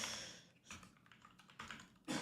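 Close, quiet typing on a computer keyboard during a live coding session, with irregular bursts of key clicks and taps.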